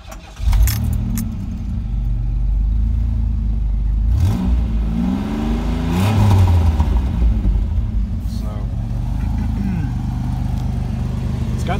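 An all-original Pontiac Fiero GT mid-engine sports car with its original dual exhaust idles with a low, steady rumble, then rises through a few swelling revs and settles again, loud and close.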